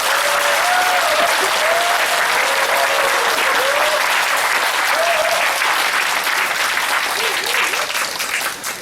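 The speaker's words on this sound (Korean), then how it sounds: "모두 박수 주십시오." Loud, dense applause from a lecture audience in a Nowon church hall welcoming the speaker, sustained clapping that fills the room close by, with faint whistle-like calls rising over it before fading slightly at the end.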